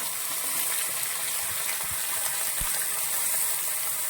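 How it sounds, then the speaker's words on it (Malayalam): Chopped onion and green chilli frying in a pan, a steady close sizzle with bubbling hiss and a few faint clicks of stirring, no voices. "ഉള്ളിയും കൂടി ചേർത്ത് ഇത് നന്നായിട്ട് നമ്മൾ വഴറ്റണം."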